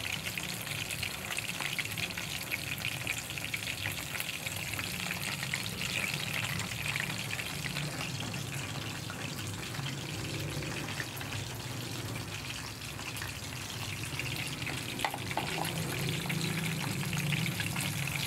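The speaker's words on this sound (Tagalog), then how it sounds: "Lagyan natin ng toyo. Ito yung pritong leeg." Neck pieces fry in a pan after soy sauce is added, a continuous dense sizzle and crackle that stays loud and close throughout with no voices.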